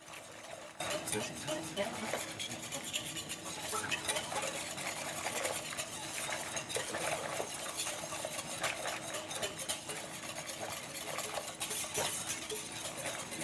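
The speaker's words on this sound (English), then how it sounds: "Give this a little whisk just to dissolve," Whisk stirring milk in a pan to melt chocolate for a chocolate banana bread pudding, a steady scraping swirl that runs continuously and fairly quietly after a brief pause at the start.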